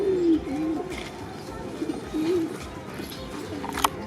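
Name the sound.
pigeons cooing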